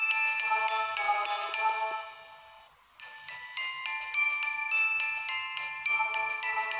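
A bright, chiming electronic melody from the game Blood in Roses plays alone, with bell-like tones that fade briefly before the tune resumes in a steady rhythm.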